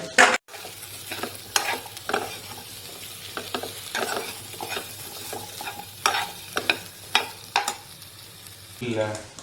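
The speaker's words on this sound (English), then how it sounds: "I am putting my potatoes. This is for potato fry." Potatoes frying in a tadka of oil with garlic for potato fry: continuous sizzling throughout, broken by repeated scraping and stirring strokes from a utensil, close and moderately loud, with no talk.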